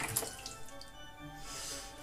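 Water trickles and drips into a shaving soap at close range, a soft steady splash lasting a couple of seconds with faint background hiss.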